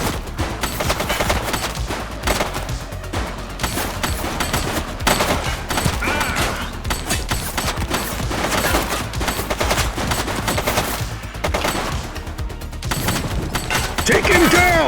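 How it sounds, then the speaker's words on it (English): Gunfire rattles through a shootout in the police video game The Precinct, with dense, continuous bursts of shots, heavy and relentless, layered with other game sounds and voices. "he's shooting."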